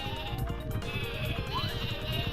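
A Sleepy Sheep item in the Paper Mario video game gives short, cute bleats over a steady, bouncy background of game music.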